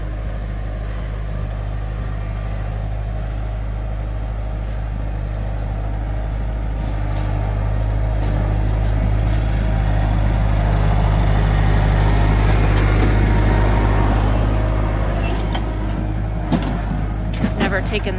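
A tractor engine running steadily outdoors on a forest property, with a low, constant rumble that swells slightly midway, plus occasional knocks and clanks over the drone.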